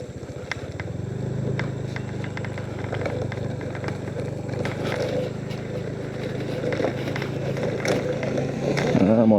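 A motorcycle rides over a rough, broken alternative road between Medan and Berastagi via Kutalimbaru, its engine droning steadily, up close, with scattered knocks and rattles from the bumpy surface, rising toward the end.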